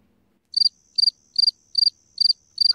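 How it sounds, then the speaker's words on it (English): A cricket chirping sound effect plays six evenly spaced trilled chirps, each a quick burst of several pulses, loud and clear against near silence. "Crickets."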